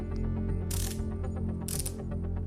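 Rapid clicking of a Boa ratchet dial being turned on a K2 Vortex Zonal Boa ski boot, a steady train of small mechanical clicks with a couple of brief rustling bursts, close up.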